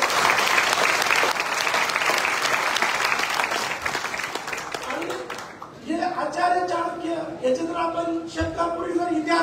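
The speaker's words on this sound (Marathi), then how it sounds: "आपण जोरदार टाळ्या वाजवून अभिनंदन करतो" A college audience applauding to congratulate their principal, dense sustained clapping from many hands for several seconds before thinning out as a voice begins speaking over the last of it.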